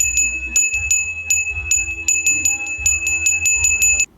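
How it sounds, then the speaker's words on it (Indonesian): A school bell rings loud and close in a rapid, repeated series of bright metallic strikes with a low hum underneath, ending abruptly. "Tak lama kemudian, bel pun berbunyi."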